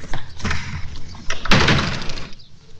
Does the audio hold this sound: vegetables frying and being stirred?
no